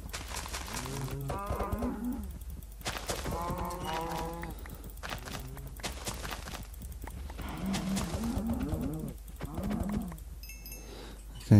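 Cows in a modded video game low repeatedly, with several drawn-out moos overlapping at varied pitches, close and clear over a low steady background hum, plus a brief bright clink near the end.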